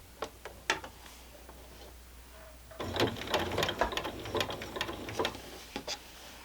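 A sewing machine stitches a quarter-inch seam joining two fabric edges of a scrappy quilt panel, running in a dense burst of rapid mechanical ticking after a few isolated clicks and taps, close and fairly quiet.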